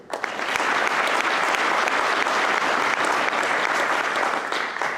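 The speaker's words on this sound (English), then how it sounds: "Let's have one more big round of applause for this entire." Sustained, dense applause from an audience at the Allstate Sugar Bowl National Football Foundation scholar athlete awards luncheon, steady and loud throughout with no voices standing out.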